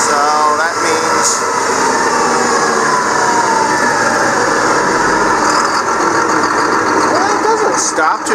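A 4960 engine runs steadily at about 1800 RPM while climbing a hill, a loud continuous drone with a rising whine and constant rumble throughout.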